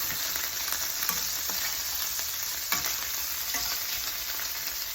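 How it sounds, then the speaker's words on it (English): Beef patties fry with a steady, close sizzle in a pan for homemade Salisbury steak, with a few soft scrapes and taps as they are flipped, and no one talks. "So we are going to flip our patties."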